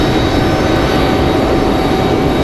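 An airliner at Raleigh-Durham International Airport makes a loud, continuous, broadband jet roar throughout, close and steady, with no talking.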